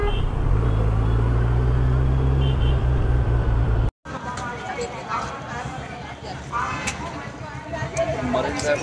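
Kawasaki Ninja 1000 motorcycle engine idling steadily with a low continuous rumble, loud and close, cutting out briefly before resuming amid roadside traffic noise.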